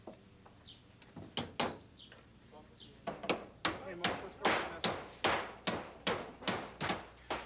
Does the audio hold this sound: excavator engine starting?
no